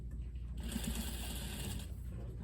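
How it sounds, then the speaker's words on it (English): A sewing machine runs steadily, edge stitching close to the fold of fabric at a quarter-inch seam, a continuous even whir with no pauses across the stretch. "And then you'll just edge stitch close."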